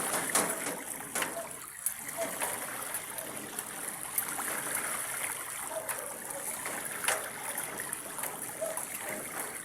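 Flood water rushes and flows steadily, a broad continuous wash with occasional splashes, fairly close and without clear talking.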